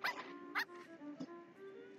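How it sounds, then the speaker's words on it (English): A dog barking in The Sims 4, a few short, soft barks and yips spaced apart, quiet and close. "Why are you barking at me?"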